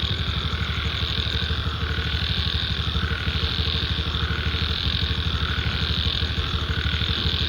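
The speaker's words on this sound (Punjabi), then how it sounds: "ਸੁਣੋ ਡੱਡੂ ਬੋਲਦੇ ਦੀ ਆਵਾਜ਼" Frogs croak at night near paddy fields in a dense, continuous chorus. The throbbing, pulsing calls run steadily from start to finish at moderate loudness, with no speech over them.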